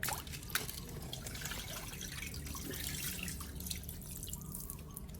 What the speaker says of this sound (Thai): ทีนี้เราก็เทน้ำออก